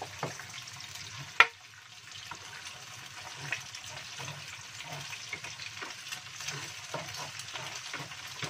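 Egg frying and being stirred in a hot pan for Indonesian fish-salted fried rice, with a steady sizzle, scraping stir strokes and one sharp clink of a utensil against the pan.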